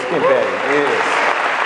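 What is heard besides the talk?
congregation applause for the teacher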